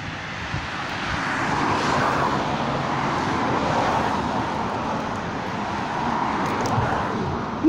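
Steady road traffic rumbles by nearby, a continuous wash of engine and tire noise with no voices on top.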